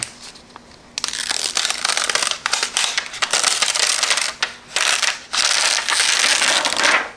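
A heat press gives a printed cotton shirt its final press, a run of loud crackling, crinkling bursts with brief pauses, close up and with no talk.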